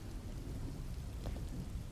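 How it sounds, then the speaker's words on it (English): Steady rain pours through a night thunderstorm, with a low rumble of thunder rolling underneath and a brief brighter crackle of drops partway through, constant and enveloping. "Because here it's thunderstorm"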